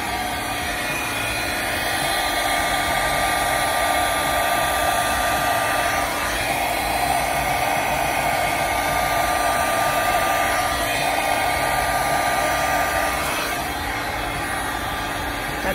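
Hair dryer blowing wet paint for a flower painting on a black background, a loud steady whooshing roar that runs unbroken the whole time with no talk.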